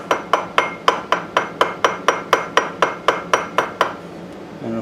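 A metal part from an 11 HP Briggs engine valve job is tapped to knock flux off. Fourteen sharp, evenly spaced ringing knocks sound close and loud, then stop and leave a short quiet tail.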